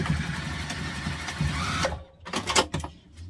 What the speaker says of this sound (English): now just going to do a quick stitch there to keep my elastic in